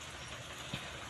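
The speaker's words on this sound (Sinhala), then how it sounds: "අපිට වහිනවා." Rain falls outdoors as a soft, faint, even hiss of drops with one small tap partway through.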